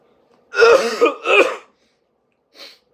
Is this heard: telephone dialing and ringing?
no